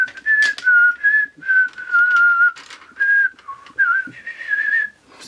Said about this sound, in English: Excuse my terrible whistling.